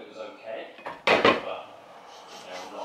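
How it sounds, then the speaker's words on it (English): A spoon stirs food in a cooking pot, giving a short burst of scraping and clinking against the metal partway through, with quieter kitchen rustling before and after. "I'm gonna give this a little bit of a stir."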